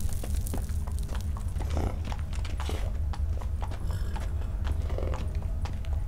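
Horse hooves clip-clop steadily in The Witcher 3 game, a fairly quiet rhythmic trot over a low rumbling background with a few faint mechanical clicks and no talking.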